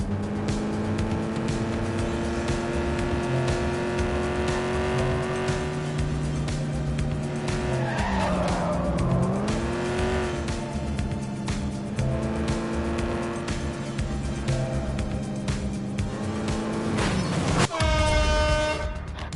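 A car skids and drives with sustained engine drone and a wavering tire squeal, loud and continuous, ending in a sharp honk-like tone near the end.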